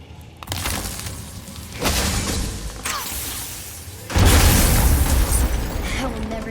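Objects shattering in God of War, a series of loud crashing bursts with a whooshing impact near the start, another around two seconds and a heavy burst just past four seconds, trailing into rumbling debris.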